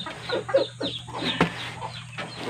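Several chickens cluck and squawk nearby in short, uneven bursts, with a low steady hum underneath.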